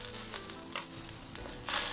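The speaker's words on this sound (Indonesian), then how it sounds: "Air sudah mendidih ya teman-teman, kemudian masukkan bakso ikan." Fish balls drop into a pot of boiling water, a continuous bubbling and sizzling roil with a few splashy bursts, close and fairly loud with no talk.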